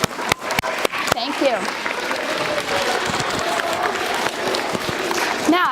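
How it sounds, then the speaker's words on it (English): An audience at an anti-bullying school assembly claps steadily, a dense wash of applause with a few sharp early claps, continuing for several seconds while a voice briefly speaks over it. "Now everybody put your hands together and clap"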